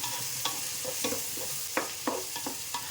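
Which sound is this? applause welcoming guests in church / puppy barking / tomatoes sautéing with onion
tomatoes sautéing with onion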